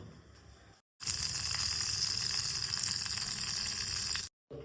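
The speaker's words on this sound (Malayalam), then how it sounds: "ചട്ടിയുടെ നല്ലെണ്ണ ചൂടായിട്ടുണ്ട്." Sesame oil heating in a pan gives a steady, close hiss for about three seconds. Quieter background noise comes before and after the hiss, and there is no speech.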